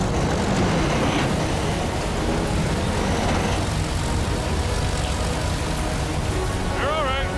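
A heavy tow truck's engine, working a 240,000-pound convoy on Highway 3, roars loud and continuous under throttle, with people talking over the din.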